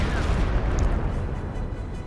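Dense, rumbling battle noise from Company of Heroes 2 fills the scene, with booming explosions blending into a continuous low roar and no clear gaps between blasts.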